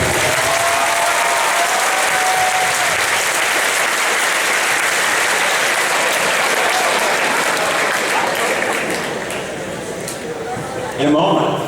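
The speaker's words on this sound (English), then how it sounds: "How about a huge round of applause?" A large seated audience at a presentation gives a big round of applause, a loud, sustained roar of clapping mixed with crowd noise that tapers off toward the end, followed by a brief burst of voices.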